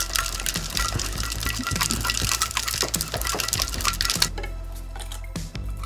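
Ice cubes rattle hard and fast inside a cocktail shaker in a sustained burst, then the shaking stops abruptly and only a quieter background remains.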